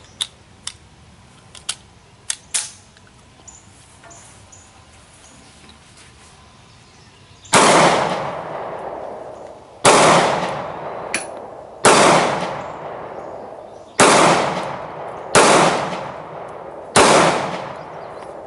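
A Martz Baby Luger pistol fires old Winchester ammunition outdoors. Six sharp, loud shots come at irregular intervals, each with a short decaying echo, after a stretch of faint clicks and handling noises.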